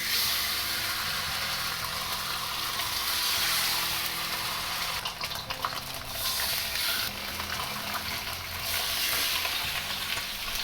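Thin pork chops searing in about two tablespoons of hot cooking oil in a smoking pan, a steady, loud, continuous sizzle and crackle with occasional stirring scrapes and no talking.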